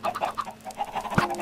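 Minecraft chickens clucking in a video game farm, a series of short soft clucks in quick succession with one louder thump-like hit partway through, near and steady.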